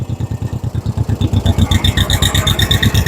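A 1956 John Deere 420 tractor engine runs steadily nearby, its loud, even chugging pulses repeating rapidly with a metallic clatter on top.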